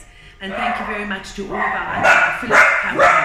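Several dogs barking and yipping in short bursts close by, overlapping someone speaking indoors; the barks grow louder and more frequent toward the end.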